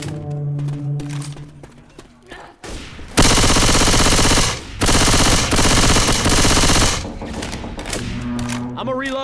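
Railgun fire in Left 4 Dead 2, Dead Center level: a dense, loud burst of weapon blasts and gunfire roaring through the middle of the clip, flanked by game music and character voices before and after.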